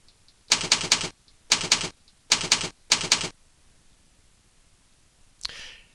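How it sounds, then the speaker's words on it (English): Bursts of rapid key clicks from a keyboard as a username is typed into a forum admin ban screen, four short clusters of close, crisp tapping separated by pauses, then a faint rustle. "So you just select that and then type in their username."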